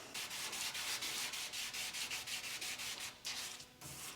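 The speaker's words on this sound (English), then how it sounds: "Gonna go ahead and put down a little bit of guide coat and get to wet sanding." Wet sanding of primed car body panels on an abandoned Evo 8 rebuild with 400 grit paper, a close, steady rhythmic rasp of back-and-forth strokes with brief pauses, no voices.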